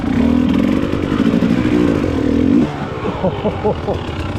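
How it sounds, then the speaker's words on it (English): A motorcycle pushing through deep snow, its engine droning loud and close with wavering pitch, then abruptly cutting off as the bike stops suddenly, leaving lower uneven rumbling and clatter. "The bike did stop rather suddenly"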